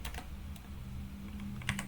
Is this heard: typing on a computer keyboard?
yes